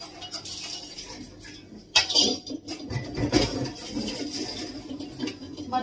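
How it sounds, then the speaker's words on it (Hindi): Dishes and utensils are scrubbed and washed in a home kitchen, with scattered clinks and scraping knocks of steel pots and cutlery, close and moderately loud against a steady background hiss. "और मांज लूंगी बर्तन।"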